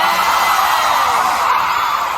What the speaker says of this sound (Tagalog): Ang lakas ng mga sigaw talaga.